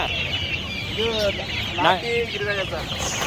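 Country chickens cluck in short, repeated calls at a busy livestock market, the birds close by over a steady crowd murmur and background chatter.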